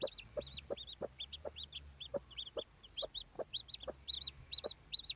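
A turkey hen with newly hatching chicks gives soft, rhythmic low clucks close by, while the chicks answer with a steady run of high, thin peeps.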